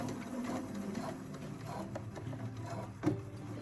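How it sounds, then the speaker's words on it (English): A sewing machine stitches a waistband or cuff, running backward then forward in a steady close mechanical whir with a brief louder clack near the end. "You're going to back stitch, then forward stitch, back stitch"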